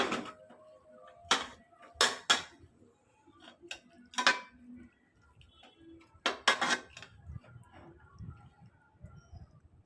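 A spoon scraping and clinking against a pot while chicken biryani masala with coriander leaves is mixed, several sharp metallic knocks spaced irregularly among softer stirring scrapes, close and fairly quiet.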